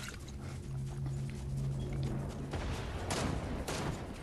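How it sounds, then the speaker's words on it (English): Gunfire in a shooter video game rings out as a player gets shot up by another, with dense crackling bursts in the second half over a steady sustained hum, loud and close, no talk. "He getting shot up by somebody else."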